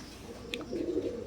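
A newly adult pair of imported-bloodline Teddy 128 pigeons gives a brief, faint low coo after a small sharp click.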